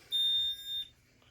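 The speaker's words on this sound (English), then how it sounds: "you can't actually silence the fire buzzer" An Alarmtronic Series 1000 fire alarm buzzer sounds in one short, high electronic tone of under a second, with a brief dip midway, then stops in a quiet room.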